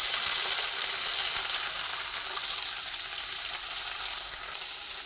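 Onion and garlic fry in oil for a fish curry with a loud, even, bright sizzling hiss that eases off slightly toward the end, close up and with no talk.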